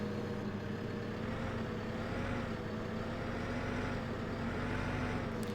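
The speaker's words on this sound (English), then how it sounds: "let's see if we could safely get this skid steer off safely." A tracked skid steer in Farming Simulator 17 idles with a steady, droning diesel engine hum that holds an even pitch throughout, close and continuous, with no voices.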